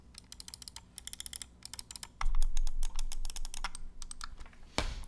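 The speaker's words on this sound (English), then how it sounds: "Only noise it makes is the clicks." Logitech G403 gaming mouse buttons clicking in quick bursts of sharp, close clicks, with short pauses between runs and no talking.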